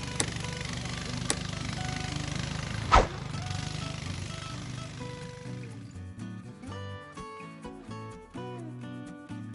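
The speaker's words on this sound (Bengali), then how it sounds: "পাহাড়ি আঁকাবাঁকা খাল দিয়ে চলছে আমাদের নৌকা।" A motor boat travelling along a winding hill canal drones with a low, steady engine hum, with one sharp knock partway through, before music takes over after about six seconds.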